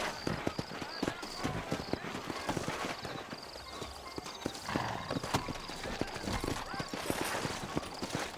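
Horse hooves clip-clop in a steady trotting rhythm in the Red Dead Redemption western video game, close and moderately loud, with a whinny and voices talking over the hoofbeats.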